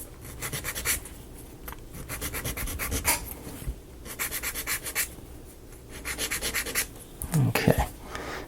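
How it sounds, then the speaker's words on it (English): Wooden model pieces of a small house kit are rubbed with a sand file in repeated short back-and-forth strokes, close and steady, with no talking. "Hit with the sand file right quick."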